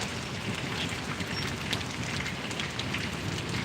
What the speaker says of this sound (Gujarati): પુષ્કળ પ્રમાણમાં વરસાદ આવે છે